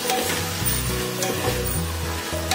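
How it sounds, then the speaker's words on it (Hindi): Green peas and chopped potato stir-fried in a pan until half cooked, a steady close sizzle with intermittent scraping and stirring clinks, no voices. "अब इसे हल्का सा हाफ कुक होने तक आपको स्टर फ्राई करना है।"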